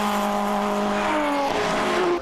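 Race car engine in a retro motorsport race, loud and close, its steady whine stepping up in pitch through sequential gearbox upshifts over about two seconds, with a faint tire squeal alongside.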